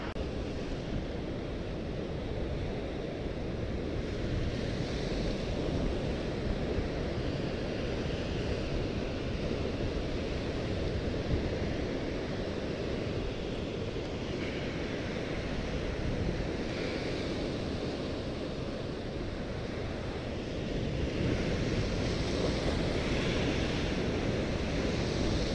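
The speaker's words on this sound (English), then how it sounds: "Pardon me for the sound of these powerful waves crashing" Powerful ocean waves crashing on rocks near land's end, a loud, continuous roar of surf with heavy wind noise buffeting the microphone, steady throughout with surges but no distinct pauses.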